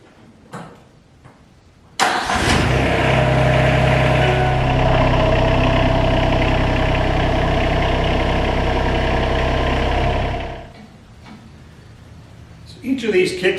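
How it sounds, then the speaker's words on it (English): A TYM R25 compact tractor with an RK25 front loader starts and runs with a steady, loud engine drone for about eight seconds while the loader bucket lifts, then shuts off. Quiet handling noises follow. "Start up the tractor, lift the bucket, engage the kickstands, lower the bucket"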